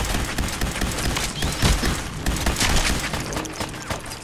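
Gunfire in the video game Fallout 4: dense, continuous bursts of shots and booming impacts fill the whole stretch at a loud, steady level, with no talk over them.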